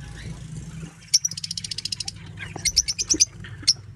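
Small caged lovebirds give bright, rapid chirps in two clear bursts, a quick run of tweets followed by a second cluster and a last single call, over low background rumble.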